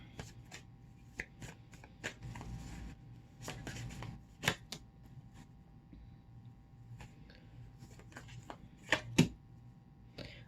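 Tarot cards shuffled by hand at close range, quiet crisp riffles and taps in irregular bursts with a few sharper slaps, no voices over them.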